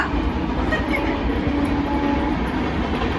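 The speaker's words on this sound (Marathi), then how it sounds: "आता सध्या ट्रेनचा आवाज चालू आहे" A train rumbles past continuously, loud and close, with a steady roar of wheels and cars throughout.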